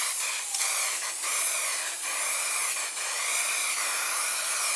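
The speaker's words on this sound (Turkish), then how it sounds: "Akfix'in sprey verniği ile çalışmayı daha profesyonel hale getiriyoruz" Akfix spray varnish hisses out of an aerosol can in one continuous, close, fairly loud spray lasting several seconds, with slight pulsing in strength and no voices.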